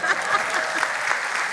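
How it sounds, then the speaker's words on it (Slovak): Steady applause from a studio audience, a dense clatter of clapping hands that carries evenly through the short stretch without a break. "Potlesk, poprosím."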